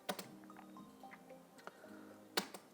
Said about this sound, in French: Je vais simplement appuyer sur effacer, le bouton supre de mon clavier.